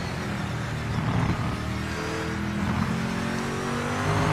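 A four-cylinder race car engine in the racing game Project Motor Racing, droning steadily and loudly at high revs throughout, with no talk over it.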